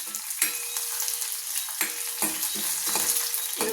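Green chillies spit and sizzle in hot oil for okra chutney, a bright hiss broken by repeated sharp crackling bursts and spatters at close range, without speech.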